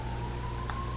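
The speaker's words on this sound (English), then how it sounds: "if you can hear a siren going in the background" A steady siren tone drones in the distance in a city, faint but continuous over low background hum.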